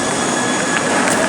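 A train in Doha, Qatar, rolling past close by, a loud steady rumble with a thin wheel squeal running through it.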